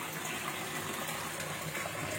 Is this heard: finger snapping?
no